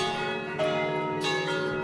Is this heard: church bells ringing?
yes